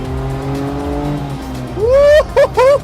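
The engine of a 1998 Daihatsu Hijet Super Jumbo kei truck drones loudly at full throttle and climbs in pitch. Excited whooping voices break in over it toward the end.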